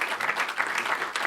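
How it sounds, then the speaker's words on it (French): Audience clapping at the Trophées Bâtir Vert 2025 green building awards ceremony in Lyon, a steady burst of dense applause that runs continuously for the whole moment. "On les applaudit."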